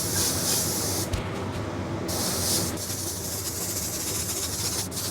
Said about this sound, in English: Go ahead and spray the whole thing white.